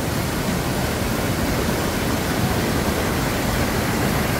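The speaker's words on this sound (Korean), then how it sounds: "자 이렇게 해서 내려가네요, 폭포가" A roughly 2 m waterfall in a mountain stream valley on Hwaak Mountain, pouring as a loud, dense, unbroken roar of rushing water heard up close.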